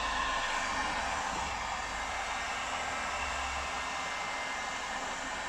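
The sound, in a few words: heat gun warming headlight to soften mastic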